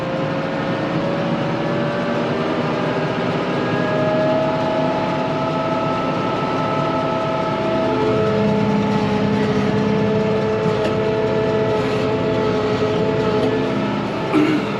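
A tractor engine pulling a hay rake across a 10-acre field hums steadily with layered harmonic tones, climbing toward about 2,000 RPM, loud and continuous without talk.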